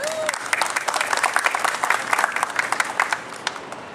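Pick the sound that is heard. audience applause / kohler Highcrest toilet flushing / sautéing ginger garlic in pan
audience applause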